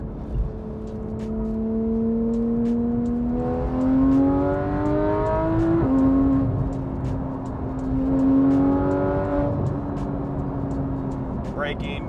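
A 2016 Porsche 911 GT3RS fitted with a Soul exhaust accelerates hard from inside the cabin, its engine wailing up through the revs in rising sweeps, with a quick gear change between pulls and steady ticking above.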